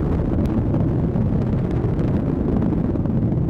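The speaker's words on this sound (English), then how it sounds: "Booster engine continues to operate as expected." Atlas V rocket booster engine during launch ascent, a loud continuous low roar with broadband rumble and buffeting, steady and unbroken, heard alone without any voices.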